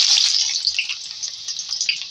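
Onions, medium-sized, frying in hot mustard oil in a pan, a steady bright sizzle and crackle that holds for a couple of seconds with no talking.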